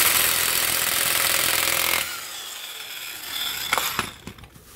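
An impact wrench loosens the driver-side half shaft nut on an Integra with a loud, continuous buzzing burst of about two seconds, followed by quieter clinks and a few sharp metallic knocks.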